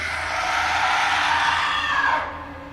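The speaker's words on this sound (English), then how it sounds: "It were more like the sound of a person screaming from very, very far away." Distant, eerie scream of a forest spirit as a sound effect, a single sustained wailing cry that swells and holds for about two seconds before cutting off, with no talk over it.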